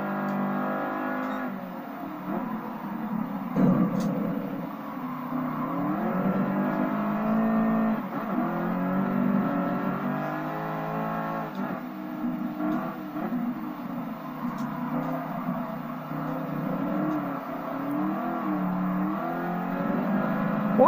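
American car engine in a GT sports car racing video game, roaring continuously at high revs as it takes a corner, with shifting pitch and steady loud drone throughout, no talk.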